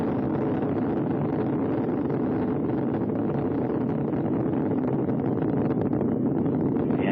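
The Space Shuttle Atlantis rises on its last launch, STS-132, with its three main engines throttled down. A continuous, heavy roar like rushing wind holds steady and loud throughout, with no speech over it.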